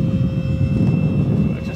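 An FMS Mirage 4000 RC model jet flies on its maiden flight at Selinevej, Denmark, with a loud, continuous engine roar and a steady whine held throughout.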